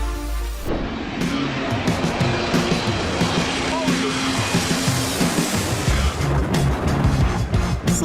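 A low-flying airplane roars overhead, a loud sustained engine rumble that swells and holds, with rushing wind noise and voices underneath.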